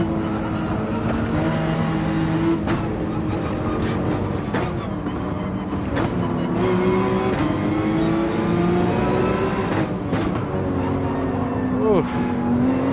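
A Red Bull race car in Gran Turismo 7, its engine loud and continuous, revving up and down through shifts and corners, with a voice talking throughout.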